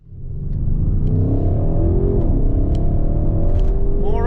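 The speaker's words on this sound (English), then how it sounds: "this is an Audi RS7 and it should be driven. So let's hit the road" A 4-litre twin-turbocharged V8 Audi RS7 accelerates hard on the road, its engine note building quickly into a loud, sustained roar with rising pitch sweeps as it pulls through the gears, close and alone without talk.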